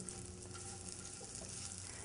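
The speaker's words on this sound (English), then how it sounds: "keep mixing your onions and carrots while they're in the frying pan" Onions and carrots sizzle steadily in a frying pan for borscht, a dense continuous crackle with soft stirring scrapes, close and fairly quiet, with no voices.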